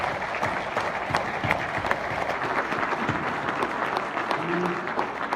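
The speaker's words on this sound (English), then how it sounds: "Let's give them a round of applause." Symposium audience gives a round of applause for career and technical educators, a dense, steady clapping from a large indoor crowd lasting several seconds, with faint voices mixed in.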